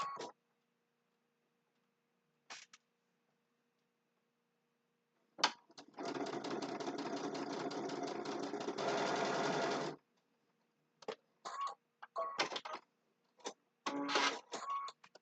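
Sewing machine stitching a Christmas table runner block: a sustained close whirring run of about four seconds, then several shorter stop-start bursts of stitching, with brief quiet gaps and no talking.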